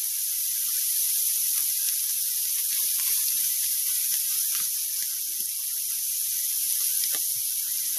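Sausage sizzles in a frying pan as it browns for homestyle gravy, a steady bright hiss with scattered small pops and crackles throughout.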